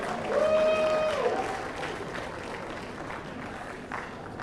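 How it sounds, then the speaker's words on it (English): An audience at an awards ceremony applauds in a broad, steady wash of clapping that fades slightly, with a brief sung or spoken voice near the start. "Shall we put our hands together for him?"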